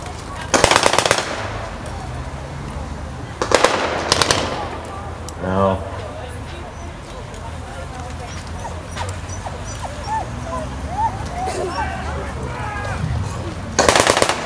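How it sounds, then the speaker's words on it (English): Loud bursts of blank gunfire give covering fire during a World War II battle reenactment at a 1940s weekend in Ramsbottom, with a few separated volleys and quieter crowd noise and voices between them. "Now the Americans retreating under covering fire."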